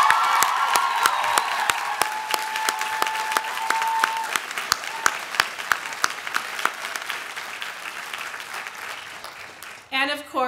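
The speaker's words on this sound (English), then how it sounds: "Let's give them applause." Sustained applause from a large audience at the Scripps College commencement ceremony for the class of 2014, dense steady clapping that thins out toward the end, with a brief voice or shuffle near the close.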